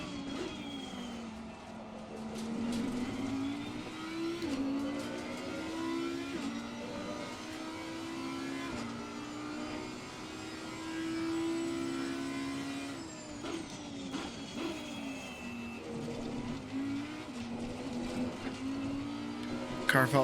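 An Audi R8 EVO GT3 race car laps Zolder in Assetto Corsa Competizione, its engine note rising and falling through repeated gear changes, with a voice talking over it at times.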